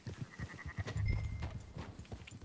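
Sheep bleat in a Red Dead Redemption 2 scene, a few quavering calls over low rumbling hoof and movement noise in the game world, moderately close.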